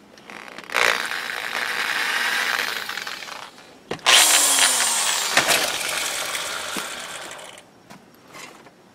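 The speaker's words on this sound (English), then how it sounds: "we'll drill this out, see if we've got a hole here." A power drill grinds into a metal shaft in two long bursts, loud and close, with a short pause between them and a final brief whir.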